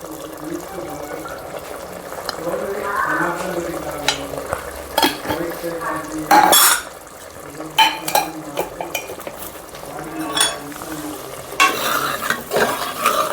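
Spices such as chilli powder and coriander powder being stirred into sambar in a cooking pot, with a spoon scraping and clinking against the metal and sharp knocks between stretches of soft sizzling.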